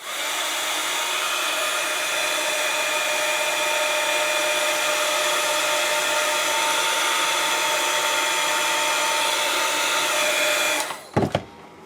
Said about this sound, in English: Okay, so I'm just going to heat this area.